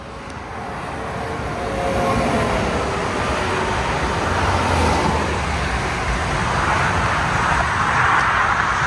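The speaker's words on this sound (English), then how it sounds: "so you're walking in the lane of traffic." Road traffic on US Route 11 sweeps past in a continuous broad roar that swells after the first couple of seconds and holds steady, heard close by from the roadside without speech.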